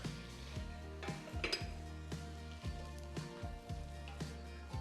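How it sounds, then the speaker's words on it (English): A spoon stirring paprika, bay leaves and coriander seeds in a Dutch oven for slow-roasted pork shoulder, with repeated quiet metallic scrapes and clinks in a steady rhythm, low in volume. "Let's give it a stir."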